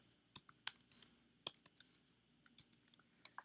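Close keyboard typing on a computer, sharp clicky keystrokes in irregular clusters with short pauses, no talking.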